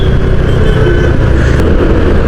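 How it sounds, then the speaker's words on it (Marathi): Evening signal traffic in Pune near the JRD Tata flyover, heard from a TVS Jupiter scooter, makes a loud, continuous roar of engines and road noise close around, with a steady wash of rumbling vehicles and no pauses. "आता इथून ट्रॅफिक चालू झाली पुण्याची संध्याकाळची"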